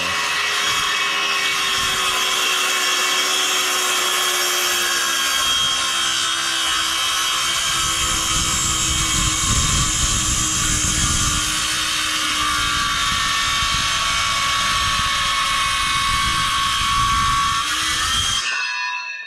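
A power saw cuts crosswise through a wooden post to form a tenon during house construction, a loud, continuous, close-up grinding whine lasting about eighteen seconds before stopping abruptly.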